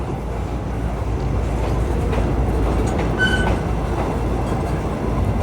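Express freight train 633 hauling a long line of oil tank wagons rolls past, a continuous loud rumble with wheel clatter and a brief high squeal, heard alone without talk.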